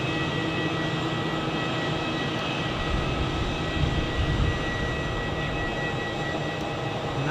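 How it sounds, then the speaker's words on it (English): An EasyJet Airbus A319 airliner at Zurich airport, its engines giving a constant broad roar heard from an observation deck. The sound stays steady and fairly loud for the whole stretch, with no speech over it. "right in front of us, an EasyJet A319 to Alicante in Spain"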